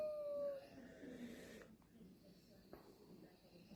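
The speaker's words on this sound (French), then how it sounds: "Non, mon chien rit pas, Marie, mon chien pleure." A dog whimpers in a high, wavering whine near the start, under someone talking casually nearby, with soft handling noises and a couple of brief thumps.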